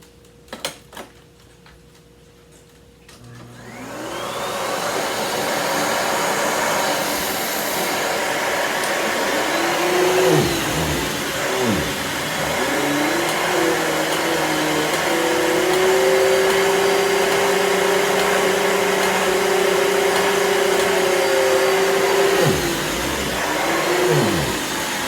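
A Cirrus canister vacuum cleaner starts up after a few seconds of near silence, then runs loud and steady with a whining motor tone that dips briefly twice as the suction changes; the machine has a missing back wheel and needs a belt.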